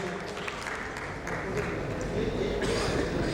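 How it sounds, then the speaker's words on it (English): An audience at an insurtech panel event applauds a panelist, a dense, steady wash of clapping from many hands that swells slightly toward the end, heard alone without speech. "A big round of applause to Dr. Lakshmi."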